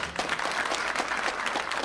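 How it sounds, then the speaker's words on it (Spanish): Audience applause after a speech at the Davos forum, a steady hall-wide clapping of moderate, fairly thin intensity with no voices over it. "Milei apenas arranca unos tímidos aplausos a los asistentes a su discurso en Davos"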